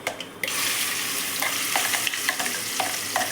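Ground onion paste frying in oil with cumin and asafoetida for raw mango chutney, a dense loud sizzle burst at the start settling into a steady hiss with light stirring clicks.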